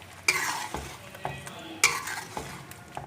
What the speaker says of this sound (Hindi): फिर इसको अच्छे तरीके से पकाते हैं चिकन को,